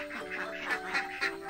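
A flock of about 46 farm ducks quacking at feeding time, several overlapping nasal quacks in quick succession, close and moderately loud.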